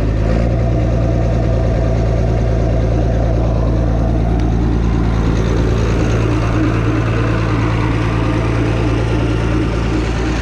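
An old, roughly forty-year-old John Deere tractor engine runs under dyno load, a loud, deep, steady diesel drone with a strong low hum that holds constant throughout, slightly rougher and busier toward the end.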